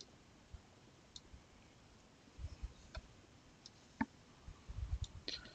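A computer mouse clicking in a quiet room, with a few faint, sharp, scattered clicks and some soft handling noise, no talk.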